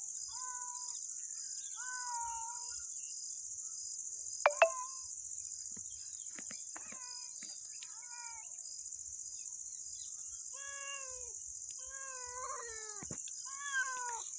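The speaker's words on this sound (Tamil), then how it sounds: "இது பூனை குட்டி போடுற மாதிரி இருக்குதுங்க ஃப்ரெண்ட்ஸ். இன்றைக்கி போட்டுருங்க ஃப்ரெண்ட்ஸ், அதனால கத்திட்டு இருக்குதுங்க" A cat meows and yowls in a series of drawn-out, wavering cries, apparently while giving birth, outdoors near woodland with a steady high insect drone behind and a couple of sharp knocks.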